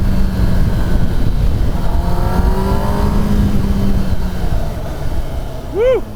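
A 2024 Kawasaki Ninja ZX-10R engine drones while riding, its pitch rising and falling with gear changes over steady wind rush, ending with a brief sharp rev.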